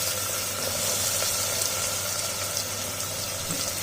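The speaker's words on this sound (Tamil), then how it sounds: "சேர்த்துட்டு நல்லா வதக்கி விட்டுடலாம்." Two large finely chopped onions frying in a pan with cloves for chicken thokku: a steady, loud, close sizzle with no pauses and no voices.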